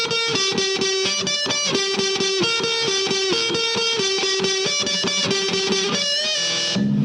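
Distorted electric guitar plays the opening riff of a song, a steady run of loud picked notes with effects, alone and without talk, ending in a held, wavering chord.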